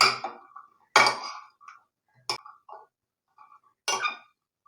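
Spoon clinks against a bowl while white chickpeas and red beans are stirred into a chaat with cucumber, giving four or five sharp, separate taps with quiet gaps between them.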